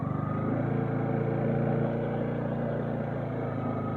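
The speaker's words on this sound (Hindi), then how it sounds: "तो अब मैं एक्सीलेटर देना स्टार्ट करूँगा।" A motorbike engine runs close by as a learner rider starts opening the accelerator, a steady throbbing hum that swells slightly and then settles back to an even drone.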